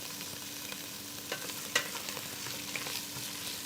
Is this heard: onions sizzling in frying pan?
yes